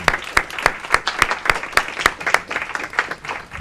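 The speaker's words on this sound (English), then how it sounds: "So I think that deserves a round of applause." Applause from the audience at a city council committee meeting, a steady run of many hands clapping, fairly loud and without talk.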